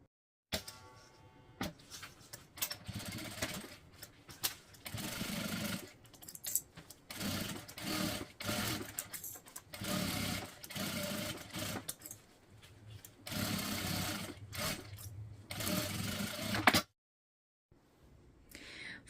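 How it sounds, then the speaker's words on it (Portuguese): A sewing machine stitches the seams of a makeup bag in close, rapid whirring bursts. The bursts repeat with brief stops between runs and end in silence near the finish. "Vamos para a máquina e passar uma costura, tanto desse lado quanto do outro, com um arremate no início e outro no final."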